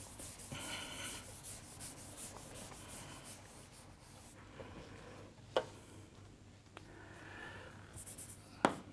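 Erasing chalk or marker writing from a board during a physics lecture: steady rubbing and scrubbing strokes with a few sharp taps, fairly close and alone.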